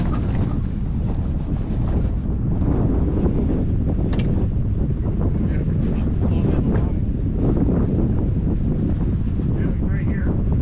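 Strong wind buffets the microphone beside the Bush River while fishing with chicken bait, a loud, steady rushing roar that fills the whole stretch without letting up.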